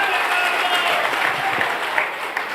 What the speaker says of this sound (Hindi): तो एक बार मैं चाहूँगा कि एक जोरदार ताली अपने लिए बजा लीजिए।